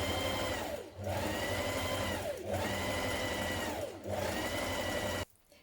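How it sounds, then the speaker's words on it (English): Sewing machine top stitching a joined sleeve seam on a top, running in three steady close bursts with short pauses between, then stopping. "Now I'm just top stitching the top where I've joined that seam in the sleeve"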